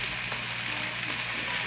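Garlic and onion sizzle in a pot while cooking Trinidad callaloo, giving a steady, crackling frying hiss throughout.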